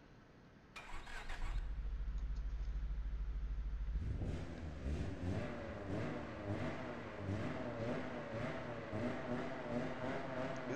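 A car engine in the racing game Apex Point starts up, then revs and accelerates with loud, repeated surging roars that stay steady and close throughout.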